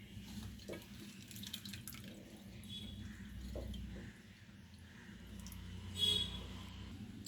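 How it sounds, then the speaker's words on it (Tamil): Water is poured over ground amla (Indian gooseberry) pulp to strain out the juice, a faint trickling and splashing that runs for several seconds with a brief louder splash near the end. "இன்னொரு டம்ளர் தண்ணி ஊற்றுறேன்."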